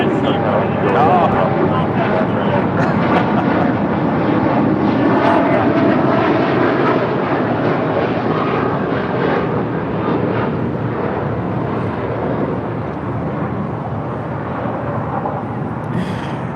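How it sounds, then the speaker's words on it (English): An American Airlines Boeing 787-8 Dreamliner, a heavy widebody bound for Tokyo Haneda, roars loudly and steadily on departure, a broad sustained jet rumble with voices talking over it near the start. "That is American Airlines Flight 27 Heavy departing to Tokyo Haneda on the 787-8 Dreamliner"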